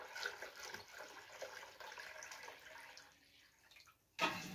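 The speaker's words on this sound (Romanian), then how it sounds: "Mai punem apă să umplem găleata ca să fie în limită." Water pouring into a bucket while a treatment for a plant is mixed, a close running splash that thins toward the end, then a sudden louder gush.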